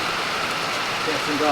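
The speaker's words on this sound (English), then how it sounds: "So as you can hear, it's raining." Steady rain hisses evenly and fairly softly, a continuous wash of falling drops with no break.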